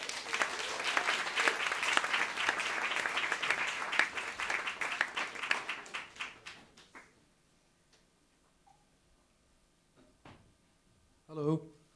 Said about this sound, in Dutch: En mag ik een applaus voor Lila, Maria de Koning en Wouter van den